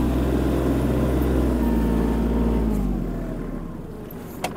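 A Japanese Kubota KL-25 mini tractor turns in the field, its small engine droning loud and close with a steady low hum that eases off and fades toward the end.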